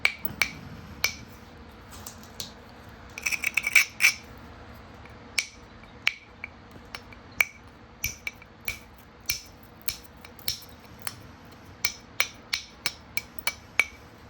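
Stone struck by direct percussion flintknapping to bevel an edge, a series of sharp, close clicking taps at a steady, slightly irregular pace, with a quick cluster of rapid hits early on.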